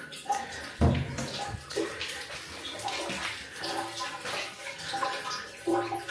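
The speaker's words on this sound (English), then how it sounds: "in here, there's a lot of running water." Water running and splashing inside an abandoned church education center's bathroom, a continuous gurgling flow with uneven splashes, heard up close while a person talks quietly over it.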